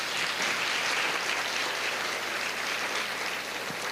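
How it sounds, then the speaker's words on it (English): Steady, dense applause from an event audience thanking the venue staff, a continuous wash of many hands clapping at moderate distance with no voices on top. "Let's give them a round of applause."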